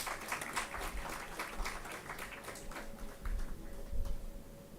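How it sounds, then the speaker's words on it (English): Audience at a business school convocation in Bengaluru applauds graduates with steady, dense clapping that swells slightly toward the end, mixed with a faint murmur. "Please keep applauding for your friends"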